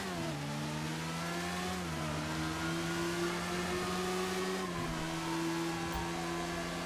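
A Principe Diabolus custom motorcycle in GTA Online revs and accelerates, its mid-pitched engine note climbing through gears with a few shift dips, loud and continuous with no talk.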